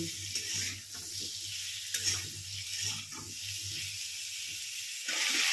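Pumpkin and potato pieces fry with vegetable stalks in a pan, a soft continuous sizzle broken by repeated scraping stirs of a spatula, close up and without speech.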